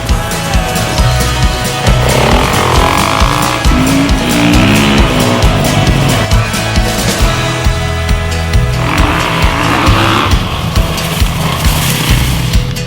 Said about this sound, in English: when you ride it, it really does feel like a real dirt bike